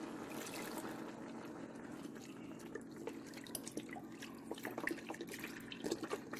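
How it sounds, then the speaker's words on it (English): Beef broth is poured into a Ninja Foodi pot, giving a soft continuous trickle with scattered drips and splashes growing slightly busier toward the end, faint and close with no talking. "now I'm going to put in some beef broth"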